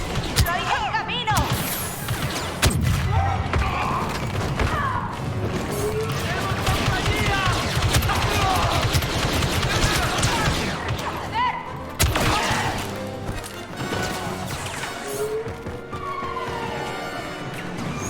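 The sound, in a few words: gunfire from Star Wars Battlefront 2 video game battle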